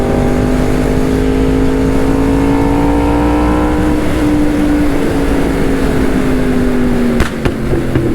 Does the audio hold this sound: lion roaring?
no